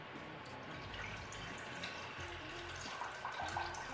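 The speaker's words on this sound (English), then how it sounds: "With a small saucepan on the heat, we're just gonna add the water first." Water is poured into a small saucepan on the stove, a steady splashing trickle that runs continuously and fairly close, with no talking over it.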